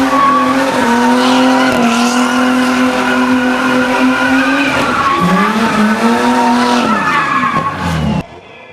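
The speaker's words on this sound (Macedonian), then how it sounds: "со задоволство ги покажаа перформансите на своите автомобили и мотори" Tuned cars at a car show skid and rev loudly. Sustained tire squeal and engine revs rise and fall over several seconds, then cut off abruptly near the end.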